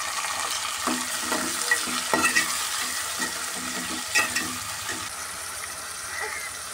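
Tempering seeds and tomatoes fry in hot oil in a pan, a steady close sizzle broken by scattered stirring scrapes and occasional sharper crackles.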